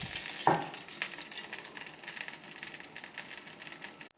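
Oil sizzling in a pan while a tempering (tadka) is made for mash (urad) dal, opening with a sharp burst and settling into a steady, close crackling hiss that carries on alone.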